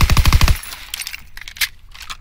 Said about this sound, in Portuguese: vou dar uns tiros nele daqui a pouco